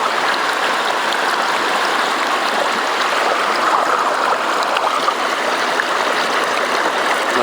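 Reedy Creek water in North East Victoria rushes steadily over the riffles of a gold prospecting setup, a loud, constant close-up burble with no voices.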